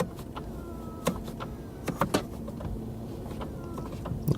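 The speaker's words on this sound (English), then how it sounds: "The steering wheel, you adjust it electrically here," Electric steering wheel adjustment motor in a 2019 Mercedes G350d, a faint whirring hum with several short clicks and taps inside the cabin.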